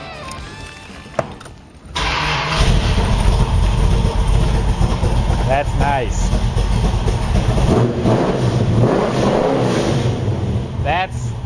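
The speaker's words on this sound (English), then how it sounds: "I love that MagnaFlow exhaust. Kind of gives it a muscle car mixed with a European sports car sound." A car with a chrome tilt column and MagnaFlow exhaust fires up after a brief crank, then idles loudly with a deep rumble and a few revs, while a voice speaks briefly over it.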